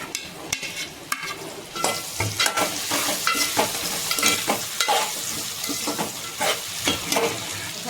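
Cut okra and cucumber pieces cooking in a pan, with continuous close stirring scrapes and clatter over a soft sizzle, busy and fairly loud throughout.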